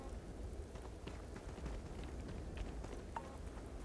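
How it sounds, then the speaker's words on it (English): Steady freezing rain falls in the video game Starfield, a dense, even patter with faint scattered drops and a low rumble, holding at a constant moderate level throughout with no voices. "Freezing liquid rain, that's probably why."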